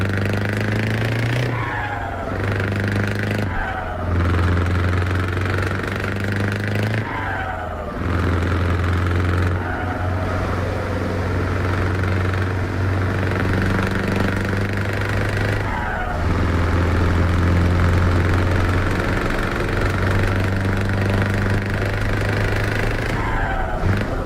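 A Scania truck's V8 with open pipes rumbles in Euro Truck Simulator 2, a deep loud drone that rises and falls through repeated revs and gear changes with brief dips between pulls.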